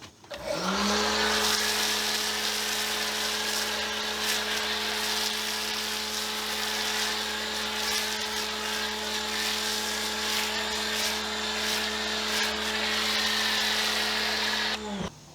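A Greenworks electric pressure washer with a foam cannon spools up and runs at a steady droning whine under a hissing spray for about fourteen seconds, then cuts off.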